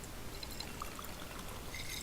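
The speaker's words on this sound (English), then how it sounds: "you could drink the tainted water, but watch what happens with the infection there at the bottom left." A character in the video game Fear the Night drinks tainted water, heard as a steady pouring trickle of liquid that runs evenly throughout with no talking.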